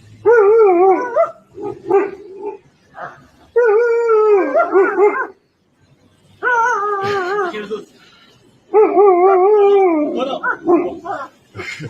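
A dog in an attack scene lets out loud, drawn-out howling yelps and whimpering cries in several long bursts, with short pauses and some quieter barks between them.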